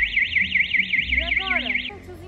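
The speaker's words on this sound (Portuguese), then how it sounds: "É alarme, alarme assim" An alarm wails loudly from downstairs in a steady, rapidly warbling siren-like tone, then stops abruptly near the end while people talk over it.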